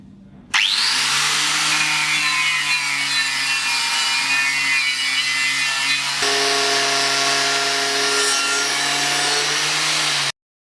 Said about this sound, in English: I'll demonstrate the removal of rust on this piece of steel